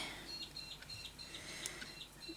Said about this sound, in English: And the bird's having a bit of a word out there.